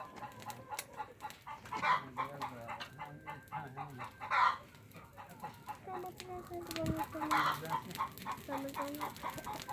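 Many chickens cluck and chatter in a busy, overlapping racket, with some louder calls standing out.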